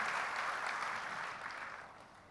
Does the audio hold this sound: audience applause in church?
yes